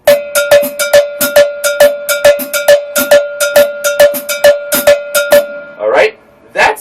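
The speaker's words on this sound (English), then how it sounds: "That's the tricky part of this cascada rhythm with the hands." A cascara pattern in 5/4, played by hand on a drum kit with a clave feel, sounds as a steady string of sharp metallic clicks with a ringing tone, close and loud, followed by a brief voice at the end.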